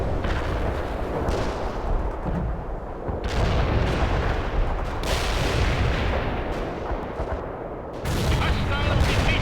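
An artillery barrage in the video game World in Conflict rumbles as loud, dense, overlapping booms and blasts that roll on continuously, swelling in waves with almost no pause between impacts.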